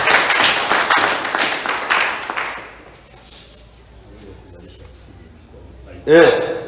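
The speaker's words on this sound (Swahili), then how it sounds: "Piga makofi kwa Dr. Samia." A crowd claps for a few seconds at a campaign event at a district hospital, before the applause fades out, leaving quiet room noise, then a voice speaks briefly at the end.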